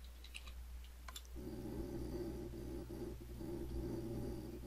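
Quick burst of computer keyboard typing, a few light clicks close by, followed by a steady low electronic hum and fan drone.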